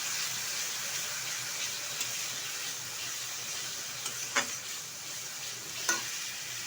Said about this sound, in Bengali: দিয়ে দিচ্ছি একটা পেস্ট করে রাখা টমেটো, ভালোভাবে কষিয়ে নেব